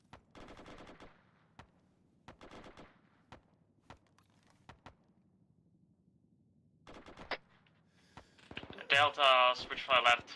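Machine gun suppressive fire in the video game Arma 3, sustained bursts repeating in clusters with single shots between them and a loud final stretch, while a voice talks over the radio.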